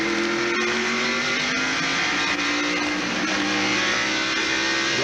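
NASCAR stock cars, including a Pontiac, roar down the straightaway at the 1995 Hanes 500, a loud sustained engine howl with pitch rising and shifting as cars accelerate past, no speech.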